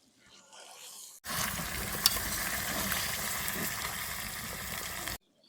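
Chicken meat for a bhuna curry fries in a pan, a loud, steady sizzle that starts abruptly after a quiet moment, crackles for about four seconds and then cuts off.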